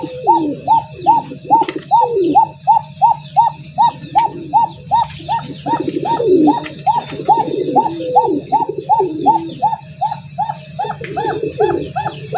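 Bashiraj pigeons cooing at a pigeon farm: a steady, rhythmic run of repeated coos close by, with birds chirping faintly above and a low hum underneath.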